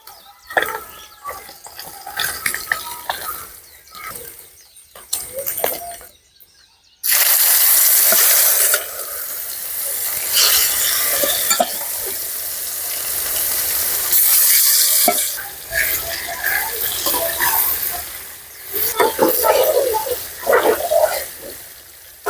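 Sardines frying in oil for a Kerala-style fish pickle give a steady crackling sizzle with stirring scrapes. It is quieter at first, then after a brief pause the sizzle turns loud and continuous.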